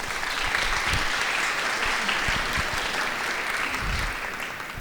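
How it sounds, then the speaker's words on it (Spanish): An audience at a Bolivian short story anthology presentation welcomes a speaker with dense, sustained applause that holds steady and then eases off slightly toward the end. "la recibimos con un aplauso"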